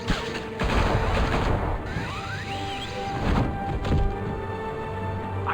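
Gunfire bursts out in a Batman Telltale video game scene, loud overlapping shots and crashes layered over a dense action soundtrack, with sweeping effects and booms spread across several seconds.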